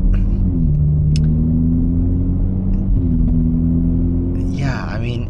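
BMW G80 M3 with a valvetronic midpipe and stock axle-back, valves open, giving a deep droning exhaust rumble from inside the car that rises and settles in pitch a couple of times before fading.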